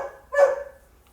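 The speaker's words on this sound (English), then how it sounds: "My dog's losing his mind because our brother took our bird out." One short, sharp bark from a nearby dog that is agitated because a pet bird was taken out, standing alone against a quiet background.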